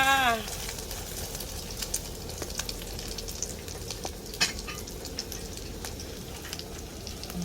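White clams fried in an omelette batter sizzle continuously in hot oil, a dense crackling hiss with scattered pops, close and steady, starting after a brief bright clatter.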